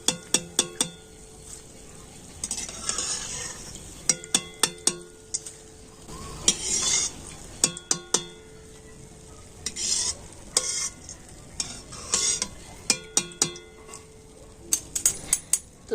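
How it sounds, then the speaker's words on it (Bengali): Gram flour snacks frying in hot oil and lifted out with a metal strainer: soft sizzling underneath repeated sharp metallic clinks and scrapes against the pan, coming in quick clusters throughout, close and fairly quiet. "এগুলো কিন্তু খুব সুন্দর লাল লাল করে ভেজে নিয়েছি। আর এখন আমি তুলে নেব।"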